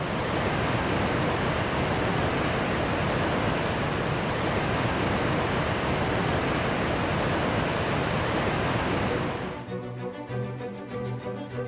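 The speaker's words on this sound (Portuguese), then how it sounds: "além do estrondoso barulho produzido pelas cachoeiras" Iguazu waterfalls give off a dense, continuous roar that fills the air loudly for most of the stretch, then drops away near the end to a quieter background.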